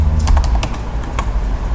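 Quick typing on a computer keyboard while entering data into an Excel spreadsheet, a run of close, crisp key clicks in an irregular rhythm over a low steady hum.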